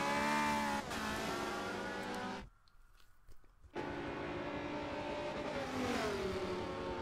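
A Twitch-sponsored Ferrari race car in a sim racing game, its engine revving loud and steady with pitch rising and falling through the gears, then cutting out briefly for about a second before the roar returns.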